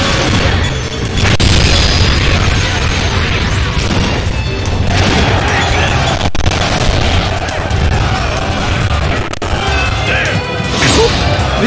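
Bombing explosions in the video game Sengoku Basara: Samurai Heroes, a dense, loud battle din of booms, crashes and smashing impacts rolling on continuously with scattered sharp bursts.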